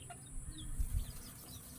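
Small chickens kept in a cage give a few soft clucks and brief calls, faint and distant over low background rumble.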